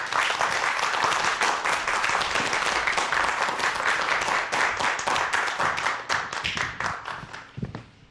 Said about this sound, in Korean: 최인성 교수님 박수로 환영해 주시기 바랍니다